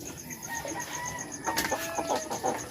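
Small chickens clucking in a backyard coop, soft overlapping clucks and chirps at close range, growing a little busier and louder midway with no talk over them.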